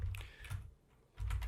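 Someone types a gradlew.bat build command on a computer keyboard. Two bursts of quick, close key clicks are split by a short pause, with no talking.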